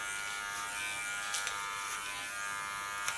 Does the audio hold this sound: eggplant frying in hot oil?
no